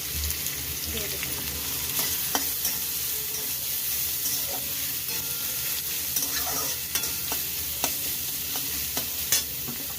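Grated onions frying in a pan for a peanut paneer masala, a steady hiss and sizzle of oil with scattered scraping and stirring clicks from a utensil, close and continuous without talk.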